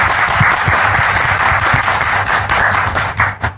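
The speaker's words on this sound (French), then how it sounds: "au docteur Jonathan Berceau, comme on sait si bien le faire, avec des applaudissements s'il vous plaît" An audience at an event applauds with dense, sustained clapping. The claps stay loud and close and thin out toward the end.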